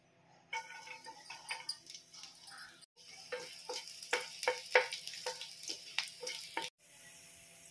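Chopped garlic hits hot oil and sizzles and crackles in short bursts, with quick popping ticks and brief gaps where the pan briefly quietens.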